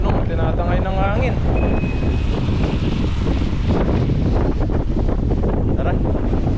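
Heavy typhoon wind roars and buffets against the microphone throughout, loud and constant, with a voice briefly heard under it.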